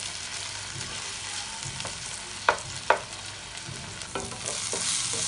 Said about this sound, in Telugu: టమాటాలు కూడా వేగిపోయింది